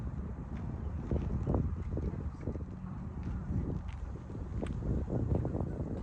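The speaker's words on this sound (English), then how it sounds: "This wind ain't no fun." Wind blowing during fishing, a steady low rumbling buffet on the microphone with gusty swells and a few faint knocks and rustles close by.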